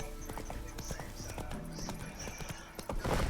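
Roach, Geralt's horse in The Witcher 3: Wild Hunt, gallops cross country with steady, rapid clip-clop hoofbeats throughout, a brief whinny or snort near the end, and a voice speaking faintly over the riding.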